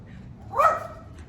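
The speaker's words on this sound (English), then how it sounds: "a little dog right there." Small dog on a street in San Angel, Mexico City, giving a single short bark at moderate distance against faint background noise.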